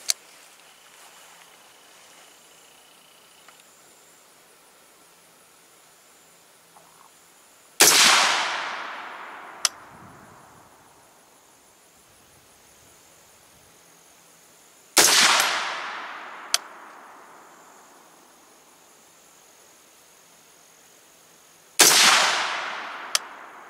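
Three single gunshots from a Pro2A-Tactical firearm on an outdoor range, each a sharp loud crack with a decaying echo, spaced about seven seconds apart with quiet between.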